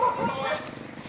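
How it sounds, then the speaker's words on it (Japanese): A dog at an abandoned theme park in Bali gives short yips and a whimpering bark, close by, mixed with people talking. "すごい犬。"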